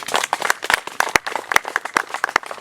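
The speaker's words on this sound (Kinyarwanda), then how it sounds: "Abo bantu mumfashe tubakomera amashyi" Lively applause from a small group, many hands clapping quickly and unevenly, close and fairly loud, with no talking over it.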